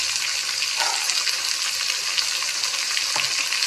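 Vegetables with beans and slit green chilies frying in a pan, a loud continuous close sizzle with brief stirring rustles and no voices.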